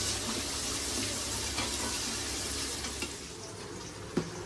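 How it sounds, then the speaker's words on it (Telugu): Chopped onions fry with salt in a pan for ragi sangati with chicken curry, a steady dense sizzle that runs throughout, with a couple of faint stirring knocks near the end. "కొంచెం సాల్ట్ వేసానండి ఆనియన్స్ ఫ్రై అవ్వడానికి."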